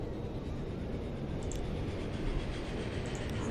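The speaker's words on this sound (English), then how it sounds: "And here comes the train." A train in the Transport Fever 2 game rolls into a station with a steady, broad rumbling roar, even and continuous throughout, with no voices over it.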